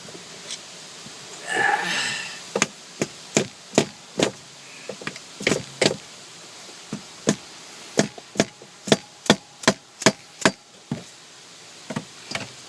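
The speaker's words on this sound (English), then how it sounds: "The screwdriver and a hammer, because I don't have a chisel." Metal hammer strikes a screwdriver to pry apart a Flint & Walling water pump: about fifteen sharp, close taps, irregular at first and then a steady quick run, with a brief scraping rustle near the start.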